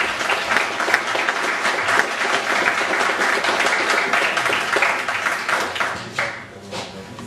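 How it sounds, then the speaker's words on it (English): Audience applause in a Toronto hall during a December 2010 talk on freeman-on-the-land law, a steady dense roar of many hands clapping that holds for several seconds, then thins and fades near the end. "please a round of applause"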